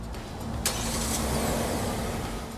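A Kia car's engine starts remotely from the key fob, turning over near a broadband rumble and settling into a steady mid-pitched idle for a few seconds.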